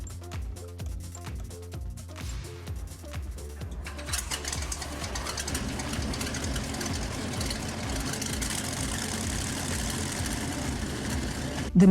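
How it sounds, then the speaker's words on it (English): Panther Ausf. A tank engine in Tank Mechanic Simulator cranks and settles into a steady low, rumbling run, growing fuller and denser after a few seconds and holding loud and continuous to the end. "When all that is done, you can crank up the engine."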